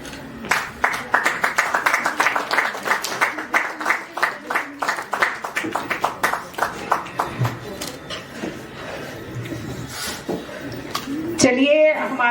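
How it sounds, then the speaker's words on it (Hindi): Audience applause at a Hindi poetry recital anniversary event, sustained rhythmic clapping from a crowd for most of the stretch, fading near the end as a voice begins speaking. "तालियां बजती रहनी चाहिए।"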